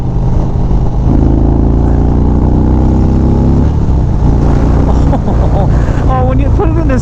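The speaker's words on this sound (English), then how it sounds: "when you put it into 6th gear and you roll on again, that was exhilarating" A 2025 Indian Springfield Dark Horse motorcycle accelerates in sixth gear along a California highway frontage road. The engine drone is loud and close and climbs steadily in pitch, and a voice talks over it near the end.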